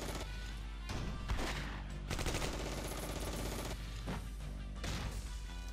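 Machine gun fire in the WWII tactics game Close Combat: Cross of Iron, with repeated rattling bursts in quick succession and short gaps between them, at moderate loudness with no talk.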